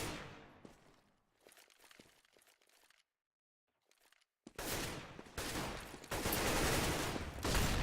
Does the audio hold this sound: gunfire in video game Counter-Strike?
yes